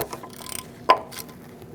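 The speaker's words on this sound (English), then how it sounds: "Using an 8mm socket, I'm going to take out my ABS sensor." An 8mm socket ratchet works the ABS sensor bolt on a 2004-2012 Chevrolet Colorado, giving a quick run of faint clicks followed by a single sharp metallic snap, close by with no talk.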